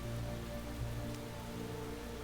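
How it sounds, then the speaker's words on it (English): Rain pours down in the game Space Engineers, a steady dense hiss of drops on surfaces that stays constant throughout, fairly faint and with no talking. "As the rain pours down."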